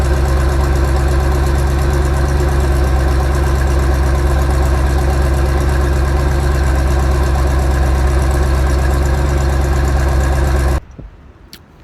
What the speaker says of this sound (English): The engine don't even sound the same now.